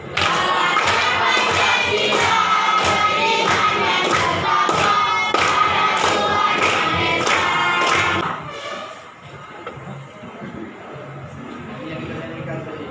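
A group claps in a steady, even beat as they sing together, about a dozen loud claps over the singing, then the clapping stops and only softer voices and room noise continue.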